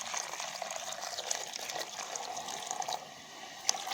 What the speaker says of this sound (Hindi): तो गर्म पानी को उसमें डालना है।